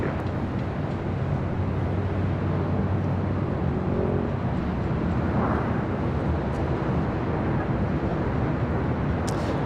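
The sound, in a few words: Delta Airlines A321 arriving at LAX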